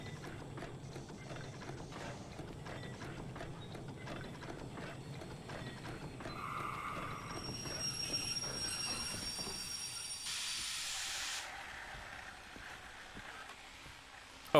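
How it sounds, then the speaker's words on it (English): Sawmill machinery in a train driving video game: dense, continuous rattling and ratcheting clatter with metallic squeals and whines layered over a running train, rising then shifting to a hissing, grinding tone. "Oh, that's just the sawmill noises."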